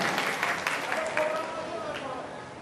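Applause welcoming Pareshbhai at a village community gathering, a fairly faint, fading patter of clapping heard at a distance, with some voices and crowd noise mixed in.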